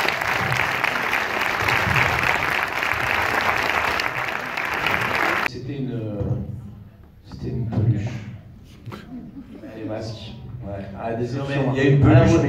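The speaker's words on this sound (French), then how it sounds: "Je voudrais que vous les applaudissiez" Audience applause at a film premiere fills the first five seconds, dense and loud, then gives way to speech.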